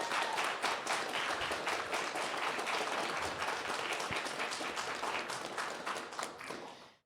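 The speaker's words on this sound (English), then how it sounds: "So let's give a round of applause for our tech staff." An audience at a charity gaming marathon finale applauds the tech staff, steady crowd clapping at moderate distance that carries on for several seconds before fading out.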